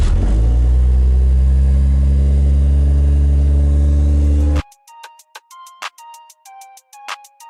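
A Toyota Chaser engine cold starts at minus 16 degrees, a loud droning rumble holding for several seconds, then cutting off abruptly into separate music-like tones.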